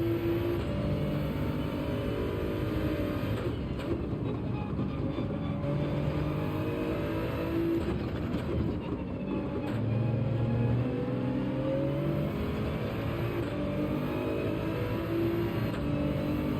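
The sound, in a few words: Toyota Supra race car engine in video game Gran Turismo 7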